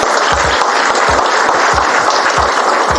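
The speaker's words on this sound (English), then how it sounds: "So I want to give her a big round of applause." Loud, sustained audience applause filling the room, with a steady clatter of many hands and occasional low thumps beneath.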